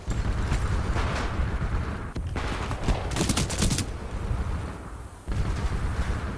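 Full-auto gunfire from a high-accuracy rifle in Titanfall 2 rattles in dense, rapid bursts with brief gaps, loud and close over a busy battle din.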